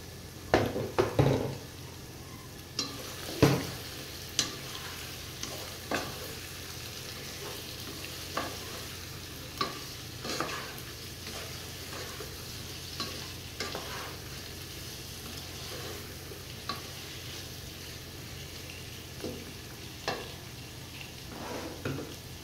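Three or four halved green chilies fry in a pan, a low sizzle under frequent spoon scrapes and knocks against the pan, louder at the start and then quieter.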